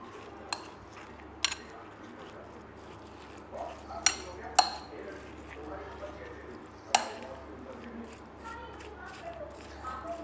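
Cream being mixed into cream chaat in a bowl, with a spoon clinking sharply against the bowl in scattered knocks over quiet background hum.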